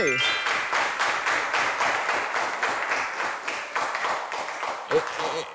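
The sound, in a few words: audience applause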